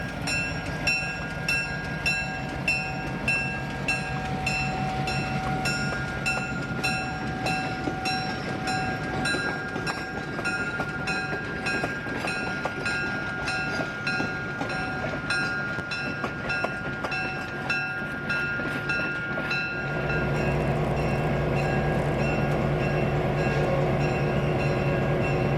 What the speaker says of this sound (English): We were riding on the end of the normal scheduled train